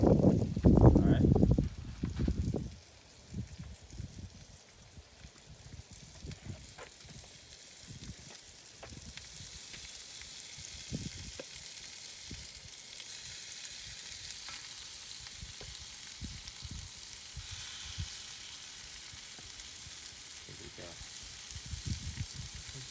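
Chicken parmesan meatballs sear in a hot pan. A loud, low clatter opens as they go in, then a steady, soft sizzle and crackle continues for the rest of the time.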